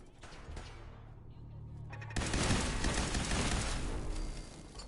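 Gunfire in Fallout 4 at Nuka World: a dense, loud burst of shots kicks in partway through and continues steadily after a quieter, rumbling stretch.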